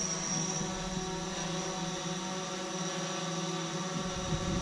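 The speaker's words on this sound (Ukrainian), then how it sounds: "в тому числі знімаємо ось на такому сучасному апараті на дроні" A camera drone hovers overhead above a sports training field, its motors giving a steady, fairly loud buzzing hum with sustained tonal whine throughout, no talk.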